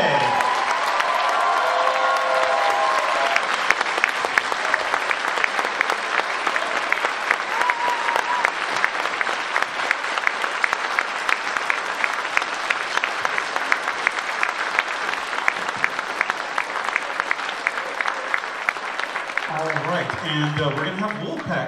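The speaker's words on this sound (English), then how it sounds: "Everybody and all of the staff, big round of applause and a salute, Eva Pade." Closing-ceremony audience breaks into sustained, dense applause that holds steady for about twenty seconds before tapering, with a few voices and cheers mixed in near the start.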